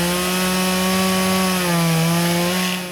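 A chainsaw engine drones loudly and steadily, its pitch dipping slightly midway before settling again, with no other sounds.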